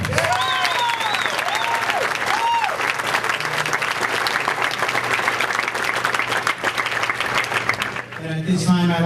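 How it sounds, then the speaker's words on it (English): Big round of applause from a crowd at a Fiesta del Pueblo celebration honoring Dr. Eliu Rivera, loud sustained clapping with cheers and whistles throughout, voices rising near the end. "And he needs a big round of applause."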